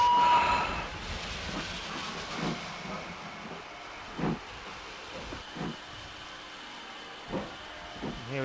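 A steam locomotive pulls away from Norden station in the OpenRails simulator, the Swanage Railway Santa Special, with a low steady rumble and hiss and a series of soft, regular chuffs that rise at intervals across the run.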